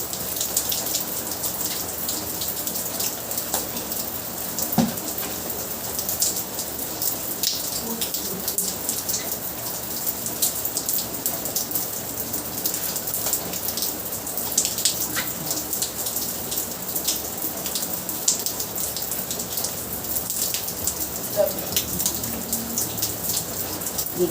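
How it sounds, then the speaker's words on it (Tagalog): Heavy rain pours down steadily outdoors, a dense continuous hiss of drops on surfaces with occasional louder splashes, lasting throughout with faint voices now and then. "Ang ulan, talagang ulan."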